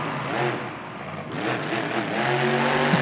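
A monster truck engine in BeamNG.drive revs loudly and steadily at a Monster Jam freestyle stadium event, its pitch climbing and falling in waves, with no one speaking over it.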